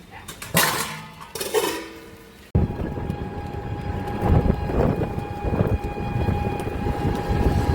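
Steel utensils clatter and clink close by as they are stacked indoors, rain having just begun outside, followed by a steady whirring background like a running fan with faint knocks.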